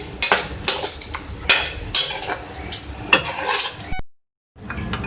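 Julienned ginger sizzling in hot oil with chicken keema in a karahi, a loud steady fry broken by scraping stir strokes, then a brief silence before the sizzle returns.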